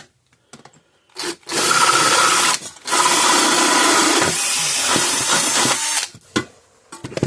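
A power drill bores out a hole in the housing of a 26-year-old Parmak Mark 6 electric fence charger, with several short revving bursts and one long, loud grinding run between pauses.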